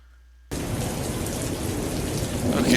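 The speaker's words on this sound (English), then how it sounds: "We're going to listen to Rain." After a brief silence, a nature-sounds website's rain and thunder cuts in abruptly as loud, steady, dense rainfall with a low rumbling underneath, swelling slightly toward the end.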